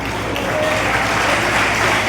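An audience claps in sustained, dense applause, loud and continuous throughout, with a faint voice underneath.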